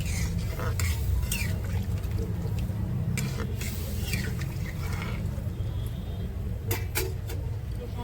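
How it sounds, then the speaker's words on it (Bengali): Fish curry gravy bubbles at a steady boil in a pan on the stove, a dense, close churning hiss with a few light utensil clicks. "দেখো ঝোলটা ফুটছে"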